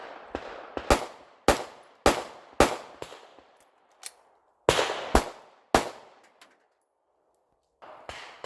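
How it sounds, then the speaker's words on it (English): A handgun fires a quick string of four sharp, loud shots, pauses briefly for a reload, then cracks off two more, each report ringing into a short decay on an outdoor shooting drill, followed by quieter closing shots. "We're going to fire those 4 rounds at the start signal, forced to do a reload, and we're going to fire 2 additional rounds."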